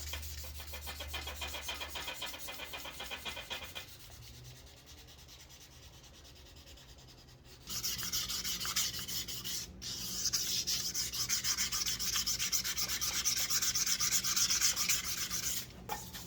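Steady back-and-forth rubbing of a dagger blade stroked along leather while sanding, a dry scraping hiss that grows louder and denser in the second half.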